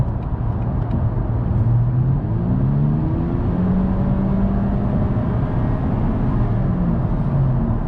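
A 2021 Honda Insight hybrid drives along with a smooth, steady whirring drone whose pitch glides up and down as it accelerates, heard from inside the cabin, loud and continuous without voices.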